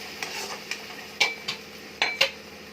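A spoon stirs tomato puree into a methi egg curry in a pan, with a few distinct scraping clinks against the metal over a low background sizzle and no talking.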